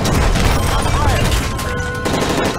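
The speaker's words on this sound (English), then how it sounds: "That's gunfire! Hijackers are taking the plane!" Gunfire crackles during a plane hijacking in Call of Duty Modern Warfare 3, a dense burst of rapid shots and crashes, loud and close.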